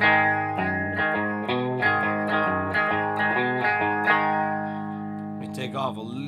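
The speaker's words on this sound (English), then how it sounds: "let's start out with the Telecaster to Tele Bridge pickup." A Line 6 Tyler Variax JTV-69 guitar modelling a Telecaster bridge pickup plays through a clean amp, bright picked notes and chords with reverb in a rhythmic phrase, and a voice briefly comes in at the end.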